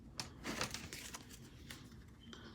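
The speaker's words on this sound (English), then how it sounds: "Let's do one more shuffle." Tarot cards being shuffled, soft crisp riffling and rustling bursts, close and quiet, with no talking.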